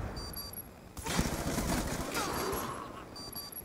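Gunfire from a Call of Duty match, a dense burst of rapid shots and a firefight roaring up after a quiet second and holding steady, with soft game tones at the edges.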